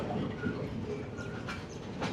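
A small train sits at a two-platform railway station in Sri Lanka, giving a steady low rumble and rattle with faint metallic clicks, heard nearby and without talk.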